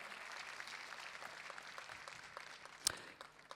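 Applause from the crowd at the Saut Hermès 2022 show jumping event in Paris, a steady wash of clapping that runs the whole time, fairly distant and even, with one sharper clap standing out near the end.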